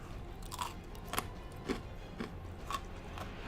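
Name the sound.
biting into a Dime chocolate bar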